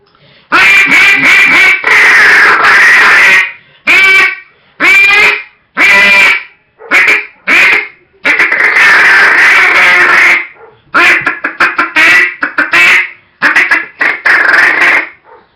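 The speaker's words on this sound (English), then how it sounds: "that's how you clean out your duck calls, and let's see how it sounds" A freshly cleaned and tuned duck call blown in a loud, close run of nasal quacks, some drawn out and others in short choppy bursts with brief pauses between them, alone without talk.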